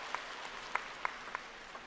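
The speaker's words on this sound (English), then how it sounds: "The crowd appreciating that." Scattered, thin applause from a table tennis crowd at the ITTF World Cup in Macao, with a few distinct claps standing out over a faint background hum.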